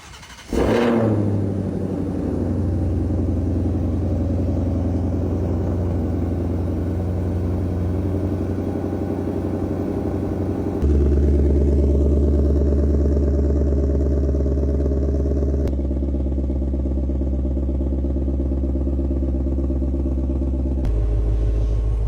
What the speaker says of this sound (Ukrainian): Це Шелбі GT5. Запускаємо цього звіра.